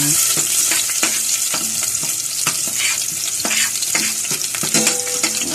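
Garlic and onion sauté together in a pan for sinigang sa miso, a steady close sizzle broken by repeated scraping stirs of a spatula, with no talking.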